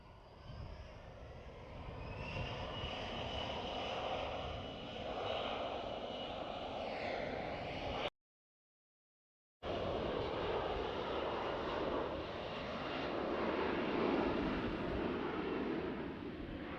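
A jet airliner departing at night from runway 36L at Amsterdam Schiphol Airport gives a steady, powerful roar of spooling engines that holds loud and constant, broken only by one brief gap of silence.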